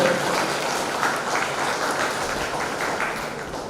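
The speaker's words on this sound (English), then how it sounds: "Once more, a thunderous applause for Reverend Father John Peter." Steady applause from a crowd fills the whole stretch, dense and even with no voices standing out.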